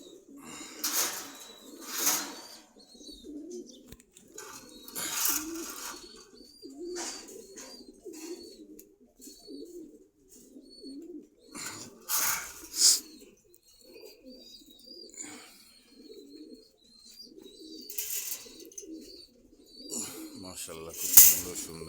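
Racer pigeons coo repeatedly in a loft, soft throaty calls recurring throughout with occasional sharper chirps and wing sounds, fairly close.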